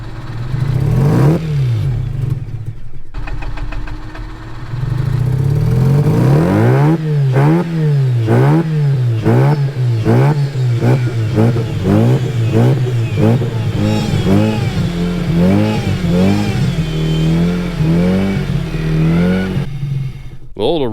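A Mazda RX8 with a rotary engine that stalls unless the revs are held up revs over and over: loud, close, rising and falling engine swells in a steady rhythm over a constant low drone, lasting throughout.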